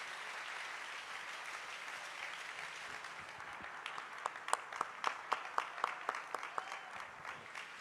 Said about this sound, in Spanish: Y le da un fuerte aplauso al Rey de la Gloria.